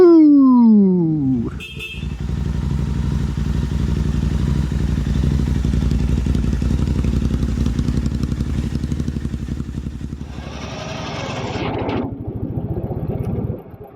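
A Royal Enfield Bear 650 motorcycle revs up from close by, then holds a steady, rumbling engine note for about ten seconds before the sound shifts and fades out.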